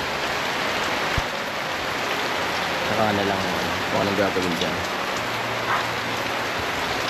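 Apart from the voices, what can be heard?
rain falling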